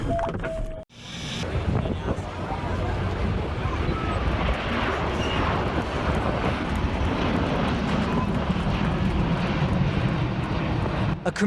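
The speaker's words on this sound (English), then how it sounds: "A commercial airliner climbs steeply into the sky as crowds watch from below." A commercial airliner climbs steeply overhead, its jet engines roaring loud and continuous from start to finish after a brief dropout, with wind buffeting the microphone.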